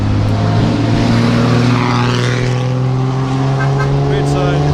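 Classic Mille Miglia race cars roar past at close range, a loud continuous engine drone with rising and falling pitch as they go by.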